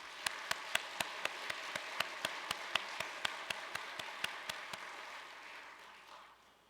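A church congregation claps in synchronized unison, crisp beats landing about four times a second over a soft wash of scattered applause, steady for roughly five seconds before tapering off.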